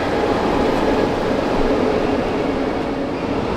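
A subway train rumbles steadily at a metro station in Sofia, Bulgaria, a loud, continuous roar with no break and no voices.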